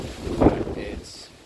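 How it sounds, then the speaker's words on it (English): Gusts of wind buffeting the microphone on a wooded walking trail, a short low rumbling surge that swells and fades, close and fairly loud. "I'm sure you can hear the gusts of the wind."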